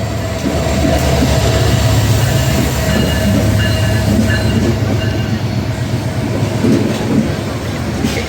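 A meter gauge intercity express train rolls past at a Bangladeshi station, a loud continuous rumble of wheels and carriages with faint squeals and rhythmic clatter throughout.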